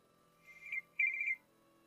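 A phone line rings out as a call is placed: two short electronic ring tones in quick succession, fairly faint and clean with no talking.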